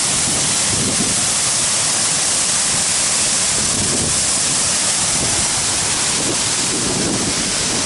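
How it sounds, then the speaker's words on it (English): A Bali waterfall close to the road roars loudly and continuously, a dense, even rush of falling water that fills the whole scene with no voices. "Second waterfall, and this waterfall is close to the road."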